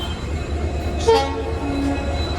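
A train at a station, a low rumble with a brief horn-like tone sounding once, steady background noise throughout.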